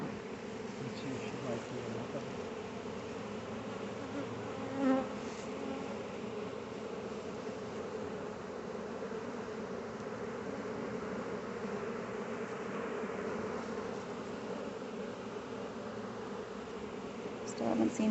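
A huge swarm of honey bees marches into a box, giving a steady, dense, close buzzing hum that carries on without a break, with faint talk now and then.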